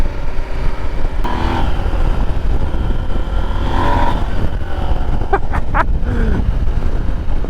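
Husqvarna Norden 901 adventure motorcycle ridden on Lake District roads in explorer mode, a steady close engine drone blended with heavy wind buffeting throughout, with brief sharper bursts near the end.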